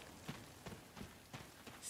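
Heavy rain pours down in the action RPG No Rest For The Wicked, a soft, steady hiss. Faint, evenly spaced thuds like footsteps sound through it and no one speaks.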